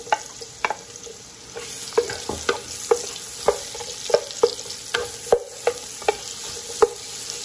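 Chicken browning in a pan for tinola as onion goes in, a bright sizzle cut by regular scraping strokes of a spatula, near and fairly loud.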